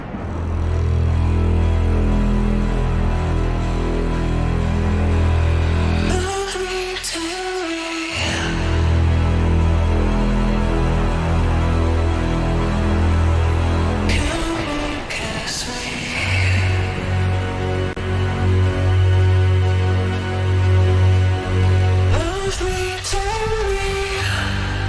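The intro section of a dubstep track plays continuously with loud, sustained bass, delayed and formant-filtered synth tones, and sweeping transitions between sections.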